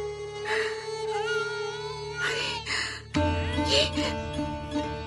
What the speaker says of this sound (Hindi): आपका बच्चा क्यों रो रहा है?